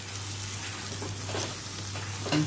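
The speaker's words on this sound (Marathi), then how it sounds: "छान असं परतून घेऊया" A gentle, continuous sizzle comes from ghee and a cashew masala being sautéed in a pan, with faint stirring scrapes and a low steady hum underneath, ending in a brief louder clatter.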